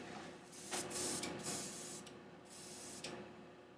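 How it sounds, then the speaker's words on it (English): Lacquer thinner sprays from an aerosol can into a 3D-printed spray booth in a few hissing bursts of about a second each, close and moderately loud. "I'm about to spray some lacquer thinner"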